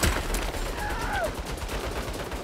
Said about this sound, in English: Turrets, take cover.